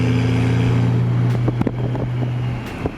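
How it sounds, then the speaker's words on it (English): A BMW F32 435i on an E85 flame tune idles with a low exhaust drone, broken by several sharp crackling pops heard close and loud, scattered irregularly across a few seconds. "those pops like hurt my ears."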